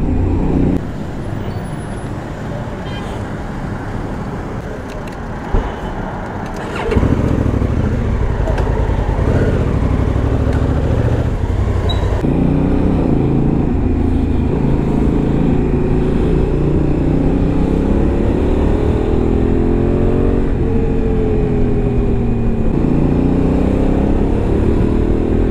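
A Honda Africa Twin motorcycle rides through road traffic, its engine a continuous loud drone that swells with gear changes, with rushing road noise around it.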